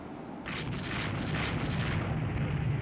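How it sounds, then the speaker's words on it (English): 3-inch naval guns firing in the naval warfare game Rule the Waves 3: a series of heavy booms over a sustained low rumble, several shots in quick succession with no speech. "even our 3-inch guns should be shooting"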